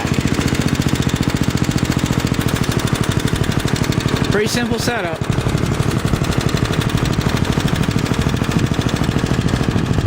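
Speedex S-17 garden tractor engine running steadily close by, a loud continuous rapid chugging throughout with a brief hiss or clatter midway; someone talks over it.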